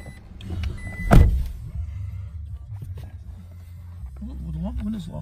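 An electric power window motor in a 2016 Toyota Tacoma SR V6 double cab pickup gives a brief whirring hum heard up close inside the cab, with someone talking around it.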